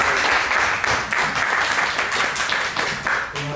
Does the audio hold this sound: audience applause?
yes